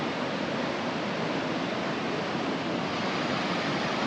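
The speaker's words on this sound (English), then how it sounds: "the bubbling up out of the rock." Water bubbles up out of the rock in Saklıkent Gorge, Turkey, a steady, dense rushing wash with no breaks, close and continuous like churning spring flow.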